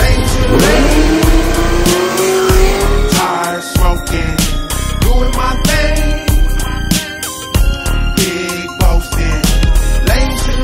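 A convoy of sports cars at a Long Beach performance night, their engines revving hard and loud with repeated throttle blips, rising accelerations and sharp bursts over a continuous mechanical roar.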